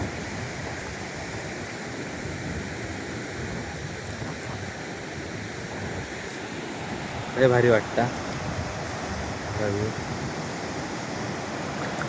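A monsoon-season waterfall on a trek roars as a steady, dense rush of falling water throughout, with brief voices breaking in over it.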